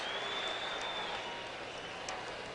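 A Dallas arena crowd applauds a slam dunk at the 1986 NBA Slam Dunk Contest, a steady, faint wash of clapping and murmur heard from a distance.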